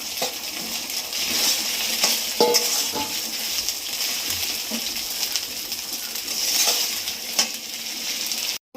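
Steady sizzling of fried potatoes in a pan with chilli paste, with occasional scrapes and clinks of a utensil stirring against metal.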